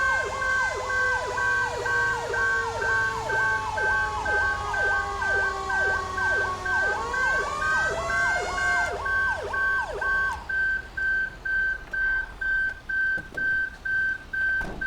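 A fire-scene alarm siren in the FiveM game blares loudly and continuously, its warbling, sweeping tone joined by a steady high beeping, before it cuts out partway through and only the pulsing beep continues.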